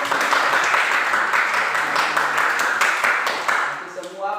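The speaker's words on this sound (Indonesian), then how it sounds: "Oke, tepuk tangan." A junior high school class bursts into group applause, dense, rapid clapping from many hands filling the room for a few seconds before thinning out, with voices mixed in.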